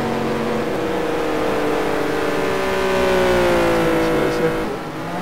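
Race cars in the RACE 07 video game replay on the Trial Mountain Reverse track: a close, loud engine drone with rising and falling pitch as cars accelerate and pass, steady throughout.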